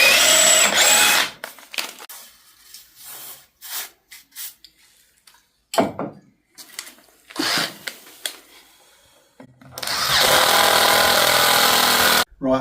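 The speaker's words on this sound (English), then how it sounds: "Gonna need just a little bit more drilling out." A power drill works through tough oak in short, stop-start bursts with quiet pauses between, ending in one sustained loud run; faint sounds of handling fill the gaps.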